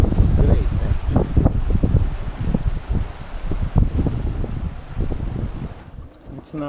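Steady wind roars across the microphone on a sailboat at sea near Menorca, gusting loudly and continuously with bursts of rustle and buffeting throughout.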